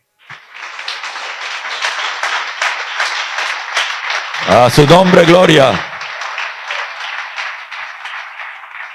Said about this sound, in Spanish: Ese aplauso es para él.